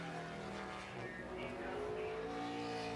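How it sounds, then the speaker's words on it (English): A NASCAR Sprint Cup race car on a qualifying lap at Martinsville in 2009 roars steadily and loudly throughout, its engine tone rising slightly, with faint commentary beneath. "Here's the one car of Martin Truex Jr. out to see what he can do and maybe get this car in the top 10."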